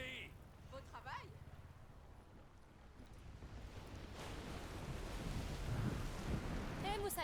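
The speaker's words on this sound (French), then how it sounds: "les vagues qui passent sur le bateau" Waves wash over a boat in the video game Plague Tale: Requiem, a rushing surge that builds steadily louder in the second half, with voices talking over it.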